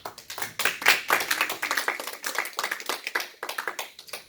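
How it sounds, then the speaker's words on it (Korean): Several people clap together in a small church gathering, with uneven, distinct hand claps at a moderate pace, fairly close and loud with no talk over them. "우리 박수하겠습니다"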